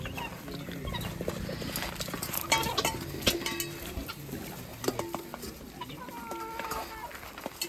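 Ducks on a farm, with busy, overlapping clucking and quacking calls at close range and soft patter beneath, steady throughout.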